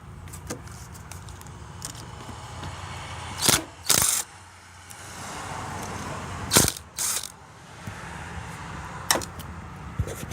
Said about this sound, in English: those cables are held on by these two 5/16 inch nuts, which we'll release